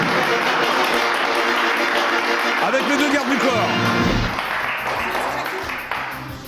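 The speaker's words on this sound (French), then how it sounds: "je vous demande d'applaudir très très fort" A French talk-show audience gives loud, sustained applause for Mélissa Mars and Fabien. The dense clapping fills the room and slowly thins toward the end while someone talks over it.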